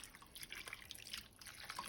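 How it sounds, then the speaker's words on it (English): Water trickles and drips into a pot for buñuelo syrup, a soft, steady pouring sound heard alone and fairly faint. "So let's go ahead and add some water."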